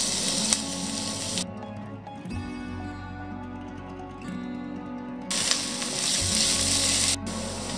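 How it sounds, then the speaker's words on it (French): Onion sweating in olive oil in a pan makes a loud, close sizzle that hisses steadily, dips quieter midway, then surges back, with occasional clicks and scrapes and no speech. "On va commencer par faire suer l'oignon."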